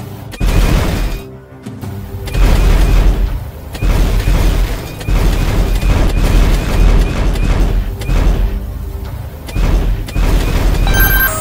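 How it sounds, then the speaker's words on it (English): Palm blaster shots firing at test targets in the Iron Man VR video game, a dense run of loud booming blasts and bursts following one another almost continuously, with game effects underneath. "Aim at the targets with the palm of your hand. Push forward to shoot."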